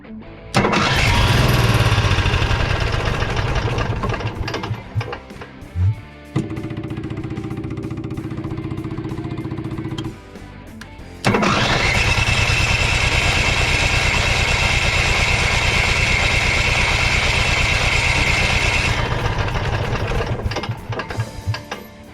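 An Onan 4000 generator engine, treated with Seafoam in the carburetor, cranks and catches, then runs with a loud steady drone that dips to a lower idle-like note midway before roaring back up; no one talks.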